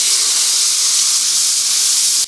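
Carrot and potato pieces hit hot sunflower oil tempered with chilli and five-spice seeds, setting off a loud, dense hiss of sizzling that cuts off abruptly at the end.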